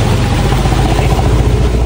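A motorcycle engine idles close by in a Philippine barangay, a steady low rumbling hum that holds even throughout with no clear revs.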